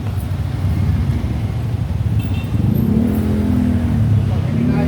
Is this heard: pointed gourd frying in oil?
no